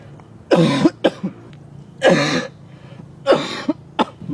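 Three loud, close coughing fits come in spaced bursts, each a harsh hack followed by a shorter catch or throat-clearing, with quiet between them.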